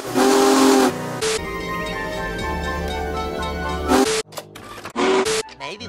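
Union Pacific 4014 steam locomotive sounds its loud, sustained chime whistle in a few long blasts, ending with abrupt short toots. The sound is close and powerful.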